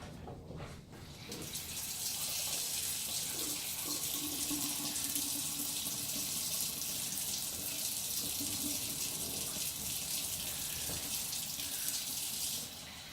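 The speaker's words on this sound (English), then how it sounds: "now let me put the rest of the fluid in here." Liquid pours steadily into a West Bend Cocoa Grande hot beverage maker, a continuous close splashing rush lasting about eleven seconds before it stops.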